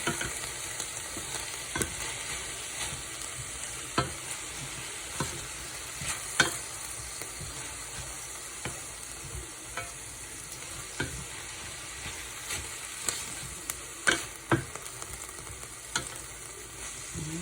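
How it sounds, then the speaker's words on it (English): Teriyaki chicken stir-fry with broccoli and zucchini noodles stirred in a pan over medium heat, a steady close sizzle broken by repeated soft scraping strokes of the utensil at irregular intervals, with no voices. "Just stirring this so all of those juice flavors can marinate"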